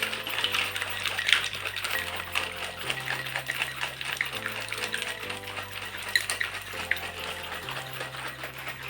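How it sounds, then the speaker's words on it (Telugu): Lemon juice shaken hard in a tightly lidded jar, a continuous rapid rattling and sloshing of liquid, loud and close, kept up steadily without pause. "మూత గట్టిగా పెట్టి ఒక 30 సెకండ్స్ షేక్ చేయండి."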